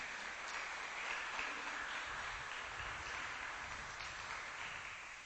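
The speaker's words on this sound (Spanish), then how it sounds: "¿Cuántos le dan ese fuerte aplauso a Dios?" A church congregation claps together for God in a sustained, fairly loud burst of applause that holds steady for about five seconds before easing slightly at the end, with no speech over it.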